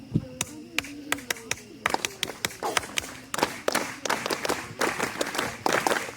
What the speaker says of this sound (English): I taught the entire camp just how to clap.